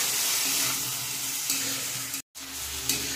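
Mustard seed and green chili paste frying in a pan, a continuous close sizzle with light stirring scrapes and a brief break in the middle, no talk.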